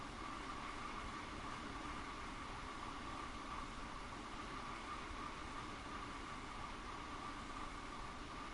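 A Class 166 diesel multiple unit running between Reading and London in Train Sim World, a steady droning rumble and hiss of motion at constant level with no pauses.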